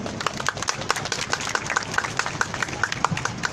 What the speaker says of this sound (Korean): 다음은 충주시 기독교연합회 김광일 회장님 박수로 맞아주세요